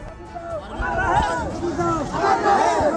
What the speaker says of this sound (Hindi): हंगामे और नारेबाजी के बीच शव को घर लाया गया